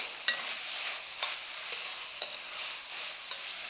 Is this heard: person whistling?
no